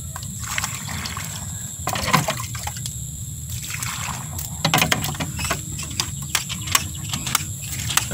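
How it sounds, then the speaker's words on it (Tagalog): Clean water poured into a container while rinsing a pesticide sprayer, a steady liquid trickle and splash with irregular bursts, close and moderately loud, no talk. "lagyan na naman natin ng malinis na tubig."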